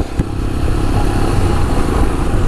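A BMW GS motorcycle rides past on a coastal road near Alibaug, its engine a steady, fairly loud drone throughout with rattly mechanical clatter, heard from another bike on the move, no talking.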